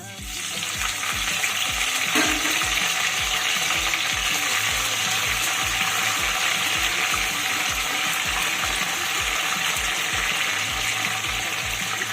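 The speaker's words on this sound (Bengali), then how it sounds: "কারি পাতাটা নেড়ে চেড়ে একটু ভেজে নেব দশ সেকেন্ড মতো ভেজে নিয়েছি" Curry leaves frying in hot refined oil in a pan, a loud continuous sizzle and crackle with faint stirring underneath and a steady low rhythmic thump throughout, no voices.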